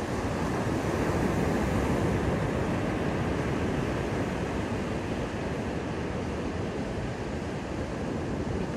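Ocean waves wash onto a beach as a steady, fairly faint wall of surf, continuous throughout with some wind rumble mixed in.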